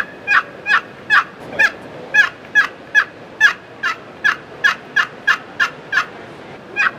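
Wooden turkey box call imitating a wild turkey, a run of about sixteen sharp, evenly spaced yelps, loud and close, with no talking.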